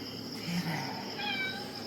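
A cat meows a few times at a holiday rental in Thailand, soft and somewhat distant, its short rising calls set against steady insect chirping in the background.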